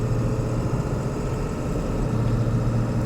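A 2001 Ford Excursion's 7.3L Powerstroke diesel idles steadily after a cold start on a 45-degree day, a low, even clattering rumble that runs continuously and close throughout.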